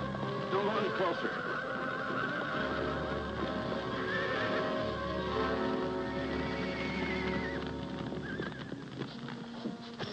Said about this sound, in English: These horses are spooked up enough to run over somebody.